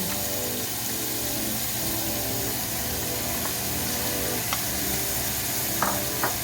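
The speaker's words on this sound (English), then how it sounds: "all we're gonna do is start dumping our onions in there. And then we're gonna go with the celery" Chopped onions and celery frying for jambalaya give a dense, steady sizzle that fills the whole clip at an even level, with a few faint clinks near the end.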